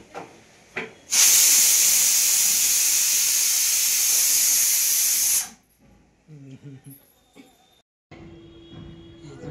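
Hot salted water streams loudly over a mutton brain being cleaned, a steady close hiss lasting several seconds before cutting off, followed by quieter clinks and kitchen handling.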